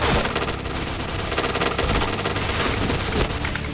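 Rapid, continuous gunfire from a video game gun, a loud sustained stream of automatic shots with dense rhythmic cracks and no pauses, no speech over it.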